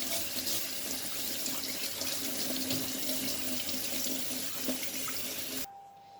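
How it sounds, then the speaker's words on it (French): A tap runs steadily into a sink while hands are washed, a close, continuous splashing rush that stops abruptly near the end. "Je vais me laver les mains pour mélanger avec les mains."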